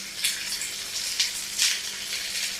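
Soaked cashews and green chillies fry in hot oil for a kaju curry, giving a steady close sizzle with several brighter crackling bursts and no talking.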